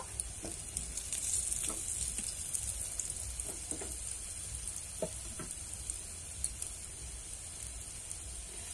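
Date pitha frying in hot ghee for a date payesh, a soft crackling sizzle with scattered sharp pops and spatters, fairly faint and even throughout.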